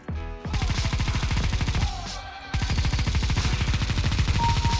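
Sustained automatic gunfire from a Negev machine gun in the video game CS:GO, a dense rapid stream of shots, loud and close, broken by a brief pause before the burst resumes.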